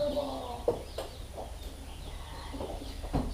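Baby chicks peeping inside a box before being moved to brooder tanks, faint scattered chirps with a few sharper calls over a low background hum.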